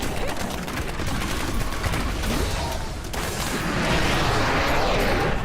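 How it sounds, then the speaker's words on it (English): Demon Hunter grenades exploding in the Diablo 3 video game, a dense continuous barrage of crackling blasts and booms with no pauses, loud and steady throughout. "The AoE of the grenades is quite nice."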